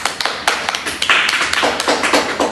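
A small audience at a panel discussion on fake news and social media misinformation gives a short round of applause, with irregular claps and taps close by, clearest through the middle and fading into scattered claps.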